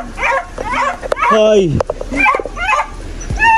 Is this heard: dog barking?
yes